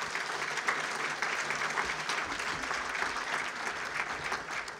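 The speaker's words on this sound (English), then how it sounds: "Give him another round of applause." Sustained applause from a civic event audience at Torrance's State of the Region gathering, a dense steady clatter of many hands filling the room at moderate level without pause.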